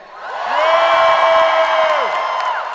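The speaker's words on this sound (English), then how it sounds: "Cheer if you don't think that's okay." Comedy show crowd erupting in loud cheers and whoops, a single shrill yell sliding across the roar, with scattered clapping underneath before the noise eases off.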